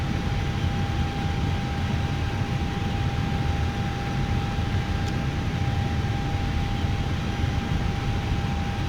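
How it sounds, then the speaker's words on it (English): Steady jet engine hum from an airliner in a flight simulator, heard after pushback on an icy departure, a constant broadband roar with a fixed tone running unchanged throughout, no talking. "I did not hear a change in this engine sound."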